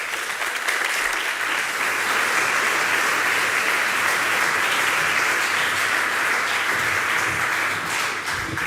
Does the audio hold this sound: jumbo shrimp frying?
no